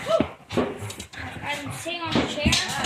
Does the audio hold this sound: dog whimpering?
yes